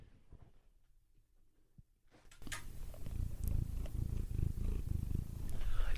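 A cat purrs close to the microphone in a steady, rumbling rhythm. It starts faint and then grows louder and fuller after a couple of seconds, with no talking over it.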